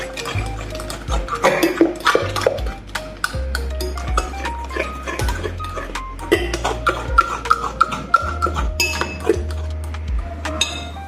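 A spoon clinks and scrapes against a bowl in an irregular rhythm while banana bread batter is stirred, the taps close and fairly crisp.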